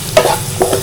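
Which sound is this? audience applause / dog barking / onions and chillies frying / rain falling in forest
onions and chillies frying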